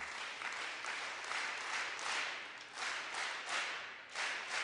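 A group claps a song together in rhythm after a count-in, bursts of hand claps rising and falling in phrases across a room, fairly steady and moderately loud with no talking.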